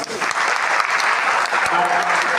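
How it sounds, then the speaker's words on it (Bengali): A ceremony audience claps steadily, a dense, even wash of applause held for the whole moment, fairly loud and close, with no voice rising above it. "বিপিআই গ্রুপের জন্য একটা হাততালি দিন প্লিজ"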